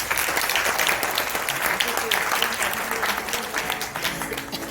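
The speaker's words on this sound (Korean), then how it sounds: "여러분 멋진 카피 남겨준 모든 분들께 큰 박수 부탁드립니다" Sustained audience applause at a high-school science literature concert, steady dense clapping filling the hall throughout with faint voices underneath.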